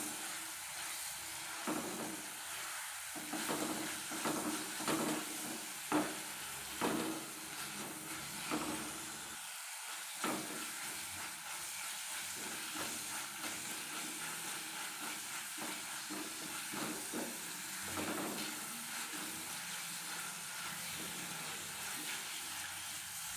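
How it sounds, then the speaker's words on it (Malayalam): Crushed ginger and garlic sauté in a pan for a Kerala-style mackerel roast, giving a steady soft hiss and sizzle with scattered scraping stirs, fairly quiet and continuous. "നല്ലോണം വഴറ്റി കൊടുക്കണം കേട്ടോ"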